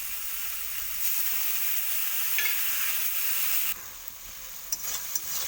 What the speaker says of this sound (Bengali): এই মশলাটাকে ভালোভাবে কষে নেবো